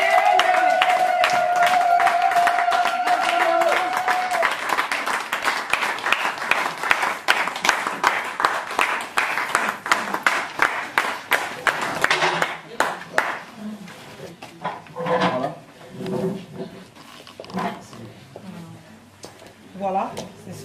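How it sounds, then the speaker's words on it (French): Audience at a Brussels gathering of a Congolese women's association applauds steadily while a voice talks over it; the clapping fades after about twelve seconds, leaving scattered claps beneath continued speech. "sous les applaudissements de l'auditoire"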